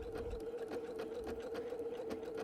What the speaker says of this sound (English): it is just nicely stitching over the cording for me and holding it in place